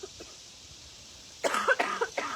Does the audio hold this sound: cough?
yes